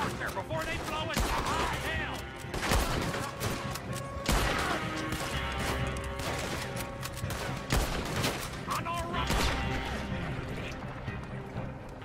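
Gunfire in Red Dead Redemption 2, with repeated loud sharp shots in an irregular fusillade over a busy background of game sound and music, and voices talking in between.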